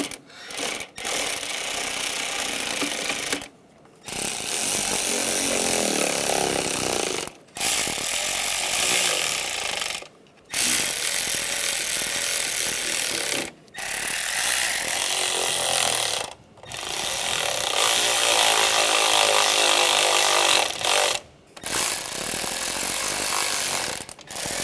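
A power tool runs in long buzzing bursts, about seven, each cut off by a brief pause, while valve cover bolts are snugged down on a 1996-2002 Toyota 4Runner; close, steady and harsh, with no talking.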